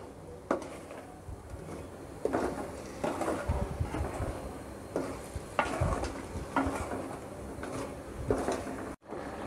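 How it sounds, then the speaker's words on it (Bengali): Pickle being stirred in hot mustard oil with ground roasted five-spice, a steady close sizzle broken by repeated scraping strokes of the spoon about once a second. "আচারটাকে আরও কিছুক্ষণ নাড়তে হবে।"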